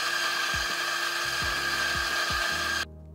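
A DF64P coffee grinder's motor whirs loudly while grinding coffee beans, a sustained high buzzing with a few dipping pitch sweeps as the load shifts, then cuts off abruptly near the end.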